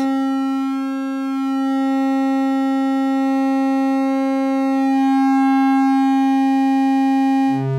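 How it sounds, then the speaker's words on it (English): Synth tone shaped by a Warp 1 power curve waveshaper module with asymmetrical clipping: a loud, steady, buzzy held note rich in harmonics, its upper overtones shifting slightly over several seconds, ending with a brief noisy blip. "So this means you can have completely asymmetrical clipping, which can result in really interesting"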